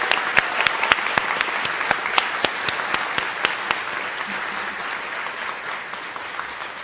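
Applause at a graduation and white coat ceremony, with sharp individual claps standing out over a steady spread of clapping that gradually thins toward the end.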